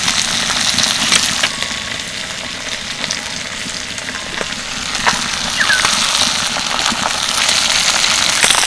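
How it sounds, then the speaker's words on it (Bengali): Small mourala fish frying in hot oil, a loud, continuous close-up sizzle with dense crackling and spitting throughout. "এদিকে দেখুন মাছগুলো বেশ কিছুক্ষণ ভেজে নিয়েছি, এক পিঠ ভালোভাবে ভাজা হয়ে গেছে।"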